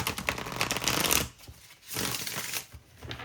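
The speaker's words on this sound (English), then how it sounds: "I'm going to lay out 7 cards, a row of 4, a row of 3" Tarot cards being laid out one by one in two rows, with close, soft papery slides and taps in quick bursts separated by short pauses, with no talking.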